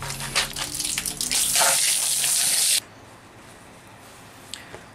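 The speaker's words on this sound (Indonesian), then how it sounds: "Oke, saya cuci dulu." Tap water runs loudly and steadily while a DTF-printed t-shirt is washed by hand, then cuts off abruptly partway through, leaving a quiet room with a faint, brief knock.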